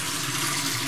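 A hot water tap runs steadily into a sink, a continuous close hiss of flowing water with no break.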